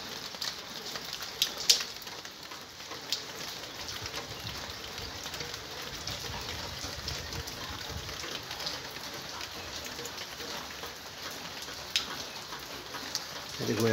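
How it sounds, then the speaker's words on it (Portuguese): Steady rain falls outdoors after a long dry spell, a continuous close patter on surfaces over the full stretch, with faint bird calls in the background. "Essa chuva agora ele dá uma recuperada."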